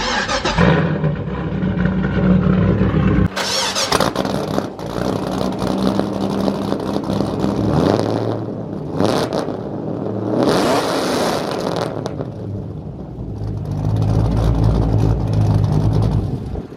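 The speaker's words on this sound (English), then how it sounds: "This is a cold start." A car fitted with a straight-piped MagnaFlow exhaust fires up from a cold start, loud and close, with a harsh crackling burst, rough fluctuating idle and sharp revs that flare and fade before settling back to a deep idle.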